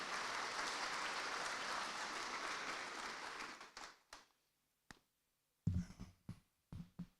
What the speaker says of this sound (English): A round of applause one more time, please.